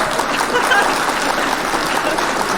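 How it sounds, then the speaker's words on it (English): An audience claps along during a live morning TV segment in Aurora, a dense, even patter of hands filling the moment without pause. "Y'all clap."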